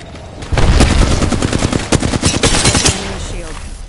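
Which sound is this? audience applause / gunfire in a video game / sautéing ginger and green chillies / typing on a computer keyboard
gunfire in a video game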